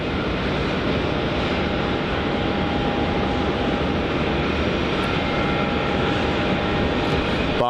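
A Boeing Dreamliner airliner's engines roar loud and steady on the runway at Melbourne Airport, a continuous broadband rumble with a faint whine running throughout, no voices over it.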